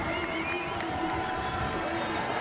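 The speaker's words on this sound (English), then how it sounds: "Great noise from the crowd." Crowd cheering and roaring steadily throughout at a canoe slalom final in Prague, a dense, sustained wash of noise from spectators without clear pauses.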